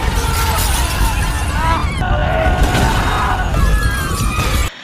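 In the film Chronicle (2012), everything around a screaming young man shatters and is torn apart, a dense, continuous roar of crashing, breaking debris that holds loud for several seconds and then cuts off abruptly.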